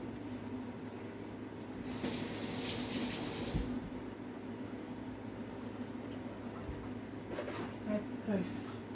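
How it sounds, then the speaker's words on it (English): Water is poured into a Ninja blender jar while making Jamaican coconut oil: a brisk, splashing gush lasting under two seconds, followed by a quieter trickle over a steady kitchen hum. "I'm just gonna bring the Ninja up, put a bit of water in it."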